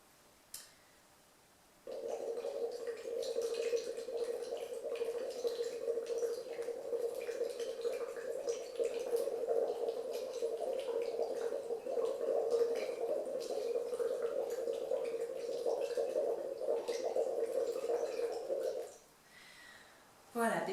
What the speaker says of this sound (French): des petites bulles régulières